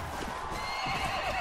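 A horse in the medieval combat game Mount & Blade: Warband gives a long, loud whinny over steady game background noise during a tournament, with no talking.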